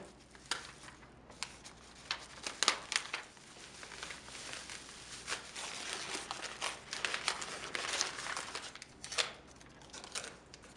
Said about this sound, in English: The blue tape is special and leaves no residue, so you can peel it easily.